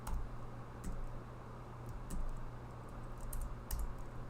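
Steady typing on a computer keyboard while writing code, a quiet run of close, quick key clicks with brief louder taps and no talking.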